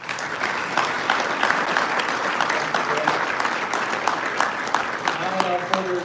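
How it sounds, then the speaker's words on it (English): An audience at a cable industry vendor day applauds through a dense, sustained round of clapping that stays even and fairly loud throughout, with brief voices faintly audible beneath it. "Another round of applause."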